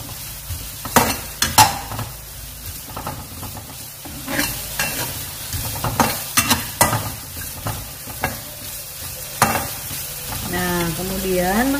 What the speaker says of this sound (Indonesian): Kita oseng sampai layu ya